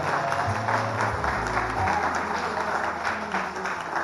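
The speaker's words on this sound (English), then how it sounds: "let's give them a big round of applause as well" Wedding guests applauding in a reception hall, a steady wash of crowd clapping throughout with a low background hum.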